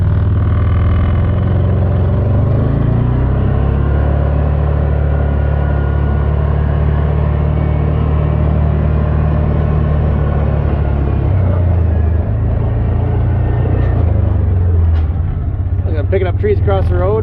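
A side-by-side utility vehicle rides out across a yard and field, its engine giving a loud, steady low rumble throughout, close up, with a shift in pitch partway through and some brief extra noise near the end.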